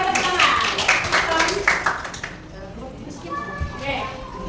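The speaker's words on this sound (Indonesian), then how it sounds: "Kita berikan tepuk tangan." Students in a classroom clap their hands after a group presentation, a brisk burst of close clapping in the first half that fades out, followed by quieter room sounds and a few voices.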